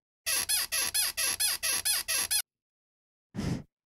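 Mechanical bed-squeak synth sound built in Ableton Operator, in the style of a Jersey Club bed-squeak sample: eight quick, evenly spaced bright squeaks in a steady rhythm, then a pause and one softer, duller squeak.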